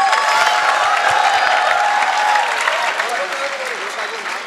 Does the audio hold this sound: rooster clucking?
no